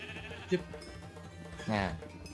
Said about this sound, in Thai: เดี๋ยวผสมแกะด้วยดีกว่า